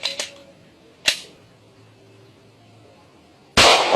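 A pistol has its slide racked, with sharp metallic clicks near the start and a single clack about a second in, then quiet, ending in a loud close gunshot blast.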